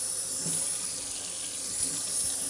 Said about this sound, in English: Hot water, just kind of slosh it around and work it in.